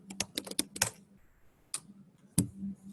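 Someone types on a computer keyboard while working in RStudio, giving a quick burst of close, crisp key clicks, then a pause and two more isolated keystrokes.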